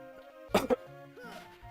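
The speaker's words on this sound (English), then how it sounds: "I was apologizing for the cough" A single short cough, a double burst heard close up against a quiet background hum, with a faint steady tone running underneath.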